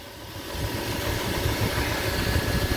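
A 2002 Dodge Dakota pickup engine idles steadily and smoothly, a close, even low rumble running alone without any speech.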